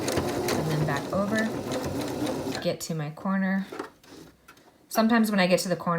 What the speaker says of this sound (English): I'm gonna sew over and back stitch and then go back over